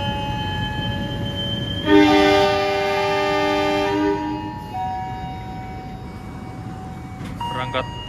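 The KA Sancaka passenger train pulls out of Cepu station on the Jogja–Surabaya line. A loud, sustained multi-tone horn blares for about two seconds over rumbling engine noise, with short high beeps near the end.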